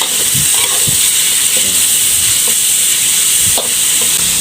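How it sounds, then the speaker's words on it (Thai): Pork sizzles and hisses as it is stirred in a hot pan, the first step of a Thai stir-fry of luffa gourd with pork. A steady, loud frying crackle runs throughout, with occasional scrapes and clinks of a utensil against the pan. "เราจะลวนหมูไปก่อนนะครับ"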